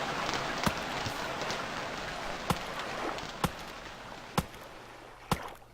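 Rain patters softly and steadily in the survival game Stranded Deep, with a few sharp, sudden knocks standing out at irregular intervals over the quiet wash.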